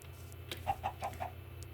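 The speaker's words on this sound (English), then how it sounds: "Come, little chickens." Chickens in the Minecraft Tekkit Lite mod cluck in a short run of four quick, evenly spaced clucks over a low steady game hum, no talking.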